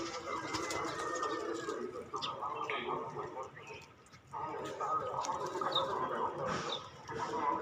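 Pigeons coo softly in a small pigeon farm, low repeated calls mixed with bird rustling and other faint farmyard sounds, while a person talks over them throughout.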